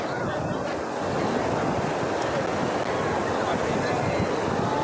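Sea waves wash onto the beach at Digha, a steady broad roar of surf with wind buffeting the microphone, continuous throughout at close range, with voices nearby.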